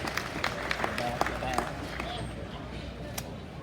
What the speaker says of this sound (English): Round of applause, you bet.